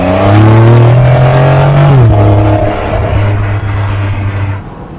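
A Porsche 911 GTS Cabriolet's engine revs hard and close, holding a loud climbing note before easing off and fading as it drops back down.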